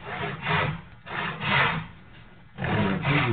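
A back saw rasps back and forth through wood, cutting a rocking chair part, in three slow, even strokes, close and distinct, with short pauses between.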